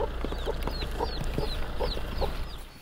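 Hens cluck repeatedly in short, close bursts while being moved into a new henhouse, with a low steady hum underneath and no talk.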